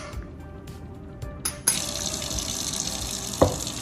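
Water from boiled sweet potatoes is poured off into a sink. A quiet start gives way to a steady, close gush of draining liquid, with a brief splash near the end.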